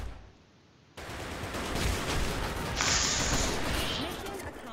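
After a second of near quiet, shotgun blasts and gunfire erupt in the video game Blackshot, heavy and dense with clattering mechanisms, while voices talk underneath.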